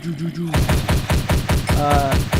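Rapid automatic gunfire from the Minecraft DayZ mod, about nine evenly spaced loud shots in a steady burst, preceded by a brief voice.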